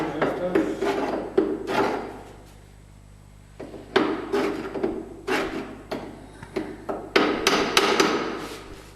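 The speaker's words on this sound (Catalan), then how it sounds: "Per clavar els aros de les botes?" A hammer drives metal hoops onto wooden barrels in rapid clustered blows, loud and near, with a short quiet gap before the striking resumes in uneven bursts.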